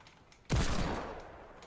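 A single sudden burst of gunfire in the video game Fortnite, a loud sharp report that decays over about a second.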